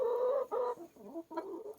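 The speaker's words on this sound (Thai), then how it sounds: "เดี๋ยวไปให้อาหารไก่เก็บไข่ด้วยวันนี้เนาะ" Chickens cluck at feeding time in a backyard coop where eggs are also collected, a close, continuous run of clucks and rising calls in short bursts.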